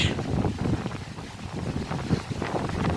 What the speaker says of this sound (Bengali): বাতাসের শব্দ শুনতে পাচ্ছেন আপনারা